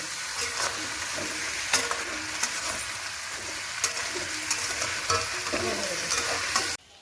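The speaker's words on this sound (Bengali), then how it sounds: "সবজিগুলো ভাজা হচ্ছে" Cubed potato, pumpkin, eggplant and tomato with dried shrimp sizzle steadily in hot oil in a pan, with occasional clinks of a stirring spoon, close and alone.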